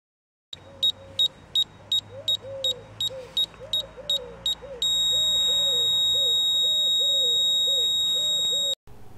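Laser level receiver cell slid along a ruler on a brick house build gives a quick run of evenly spaced beeps, then settles into a steady continuous tone when it locks on the signal; no talk.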